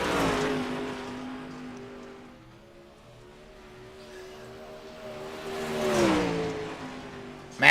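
Race car engine at a night track during qualifying, its tone rising and falling as it passes, fading away, then swelling louder as it comes back near.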